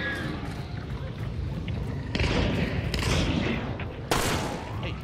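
Video game gunfire during online co-op play: a continuous stretch of shooting with sharper loud bursts, running under a background wash of game noise.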